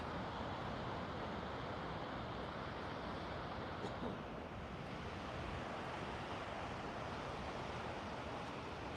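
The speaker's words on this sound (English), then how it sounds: "Soak up and take in the sound of the ocean." Steady wash of surf along the San Diego oceanfront, a continuous broadband roar of breaking waves with some wind, fairly quiet and unbroken.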